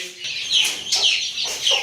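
Caged quails give off repeated short, high clucks and chirps close by, in irregular bursts over a quiet background.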